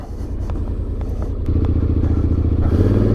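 A 2024 Honda X-ADV 750 DCT motorcycle rolls along a dirt path, its engine a close, steady pulsing rumble that grows louder partway through, with occasional clatter from the rough ground.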